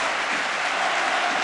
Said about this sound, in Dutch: het publiek scandeert zijn naam. Applaudisseert, want hij heeft weer een sterke wedstrijd gespeeld.